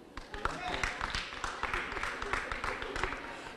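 Young audience at a campus youth-vote event cheering and clapping for Romney, a short burst of scattered claps and shouts from a crowd, moderately near.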